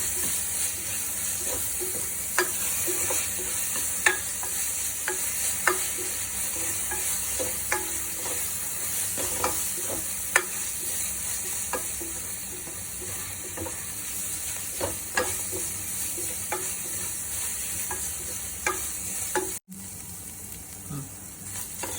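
Ginger garlic paste fries in a pan with a steady close sizzle and hiss, while a spoon stirs it in regular scraping taps for sambar.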